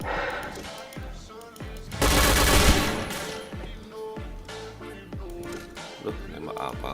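Gunfire in a shooting game, a run of sharp repeated shots with a dense loud burst of rapid fire in the middle, over background music-like tones.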